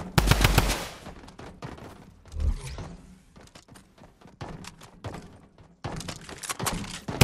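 Drum gun in Fortnite firing, with a loud burst of rapid shots up front followed by scattered single thuds and shots through a game scene, and another quick burst near the end.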